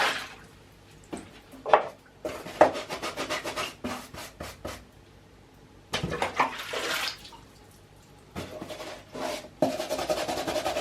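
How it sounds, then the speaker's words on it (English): Rubber Crocs shoes are scrubbed by gloved hands to remove paint, giving bursts of wet rubbing and brushing with brief pauses between strokes, close and moderately loud with no talk. "All the Crocs and all the rubber shoes, they need proper scrub."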